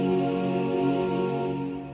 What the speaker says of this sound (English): the song starts off with this really lush pad.